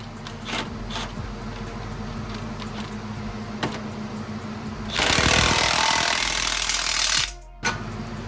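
An impact or power tool tightens suspension bolts on an Acura RSX Type S during a coilover install, with faint clicks before a loud burst of about two seconds, then a brief pause and a short final hit.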